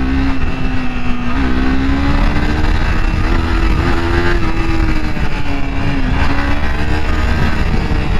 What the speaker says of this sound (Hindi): क्या साउंड है साइलेंसर की, मजा आ गया